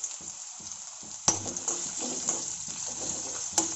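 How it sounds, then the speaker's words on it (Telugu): Ginger pieces dropped into hot oil with cumin and mustard seeds, a soft steady sizzle with a couple of sharp crackles and light stirring, close but quiet. "1 2 ఇంచ్ అల్లం అండి, కొన్ని అల్లం ముక్కలు వేస్తున్నాను ఈ ఆయిల్లో"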